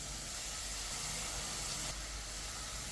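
Chicken liver sautés in a hot pan, giving a loud, continuous, broad hiss and sizzle with no pauses and no talk.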